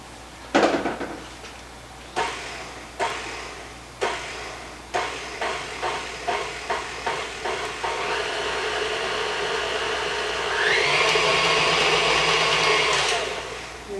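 An electric mixer whirls plum cake dough in a bowl for a German plum cake. It starts with a series of short bursts, then runs in one steady, continuous whir that rises in pitch near the end before stopping.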